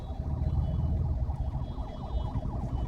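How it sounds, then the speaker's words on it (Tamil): An ambulance siren wails in a rising and falling pattern while the vehicle is stuck in heavy traffic in Coimbatore, moderately loud over low engine and road rumble. "இப்போ பாருங்க ஆம்புலன்ஸுங்க"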